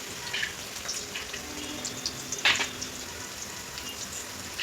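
Onion and cashews frying in ghee, a steady soft sizzle with faint crackles and one brief sharper spatter midway, close and fairly quiet, with no talking.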